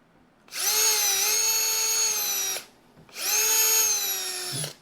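A power drill driving a screw into wood whirs in two bursts of about two seconds each, separated by a short pause, close and loud with a rising-then-steady whine.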